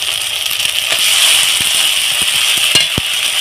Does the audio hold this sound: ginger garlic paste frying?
yes